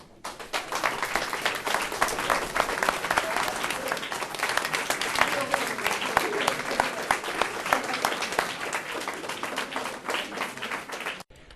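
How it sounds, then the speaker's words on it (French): At a school, an audience applauds students after a presentation of their Magritte-style mural, with a sudden burst of dense, lively clapping that rises fast, stays strong for about ten seconds, then stops abruptly. "je propose qu'on les applaudisse"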